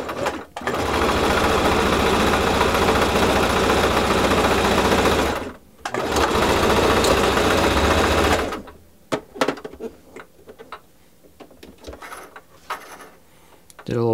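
A home sewing machine runs in two long steady stitching bursts with a short pause between, loud and close with a whirring mechanical hum, then stops for softer clicks and handling noises.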